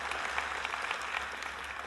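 An audience at a motivational talk on success bursts into dense, continuous applause, many hands clapping together at a steady, fairly loud level.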